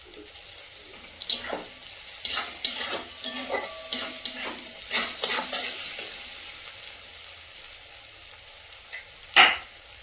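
Chopped green chillies sizzle in a pan of frying onions, with a run of rhythmic spatula scrapes and stirs over a low crackle, ending in one louder clatter near the finish; no talking.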